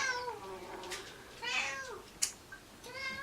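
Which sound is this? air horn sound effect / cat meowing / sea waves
cat meowing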